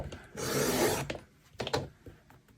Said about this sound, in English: let me just trim this down to an inch